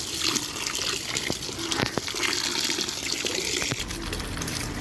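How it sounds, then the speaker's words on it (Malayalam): Water pours and splashes steadily into a container close by, with a few small knocks as lotus tubers are handled and washed in the water. "നമുക്ക് ഇതിൽ നല്ലതുപോലെ വെള്ളം ഒഴിച്ചു കൊടുക്കാം"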